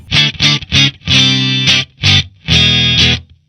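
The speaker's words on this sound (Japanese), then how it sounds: "これがよくあるマーシャルの音ですね" Electric guitar through a Marshall JCM2000 amp, a gritty distorted crunch tone played as short choppy chord stabs and a few longer held chords, loud and close with no talking.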